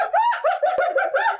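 A sloth calling in short, repeated nasal bleating notes, a rapid run of squeaky cries with a brief click partway through, close and fairly loud.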